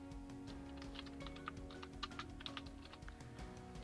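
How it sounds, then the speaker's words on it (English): Quick, irregular keystrokes tap on a computer keyboard close by, soft clicks under a faint steady hum, with no talking. "Oops, I'm typing with one hand"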